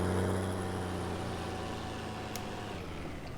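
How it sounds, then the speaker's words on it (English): A noisy farm vehicle engine in Farming Simulator 19, a steady loud low rumble with a constant drone throughout. "A really nice engine sound in here."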